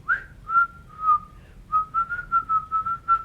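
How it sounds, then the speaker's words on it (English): A person whistles a catchy tune in short, wavering notes, a clear close-up melody of several phrases with brief pauses between them. "I can probably whistle it maybe."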